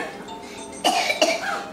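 A woman coughs twice in quick succession, two sharp close bursts about a third of a second apart, during a family vacation in Canada.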